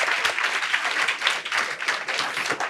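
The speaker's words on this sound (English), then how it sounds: "We'll give an applause for all of you also." Audience applause for students at a talk on positive mental attitude, a dense steady clapping from a crowd indoors that runs throughout, fairly loud and without talk.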